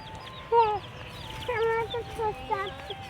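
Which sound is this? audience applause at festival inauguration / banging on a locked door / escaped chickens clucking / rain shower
escaped chickens clucking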